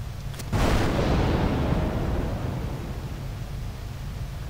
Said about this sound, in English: That is an explosive fire.